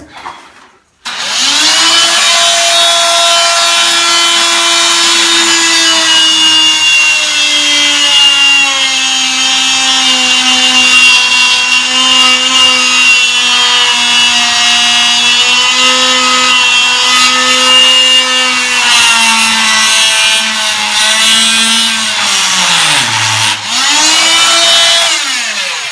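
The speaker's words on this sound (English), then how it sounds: "we're going to tow this Dremel tool Multi-Max back up and use it to cut a little slit in the collar" A Dremel Multi-Max oscillating tool cuts a slit in a pipe collar during a flange repair, giving a loud, continuous high buzzing whine with a steady pitch that drops briefly near the end before stopping.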